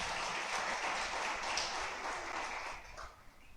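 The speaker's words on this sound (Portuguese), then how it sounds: "Dê um aplauso a Jesus," A church congregation applauds for Jesus during a sermon, a soft, dense wash of clapping from a crowd that fades slightly near the end.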